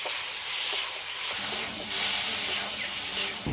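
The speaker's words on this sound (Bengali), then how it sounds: "মশলাটি একটু ভালোভাবে কষিয়ে নিই" Spice paste fries in a pan for a fish and taro curry, giving a steady, close hiss of sizzling that rises and falls gently, heard alone.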